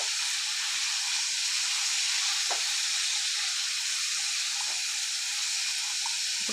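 Tomatoes and spices frying in oil for a cauliflower curry, giving a steady, even sizzling hiss throughout with a few faint clicks and bubbles, no talking.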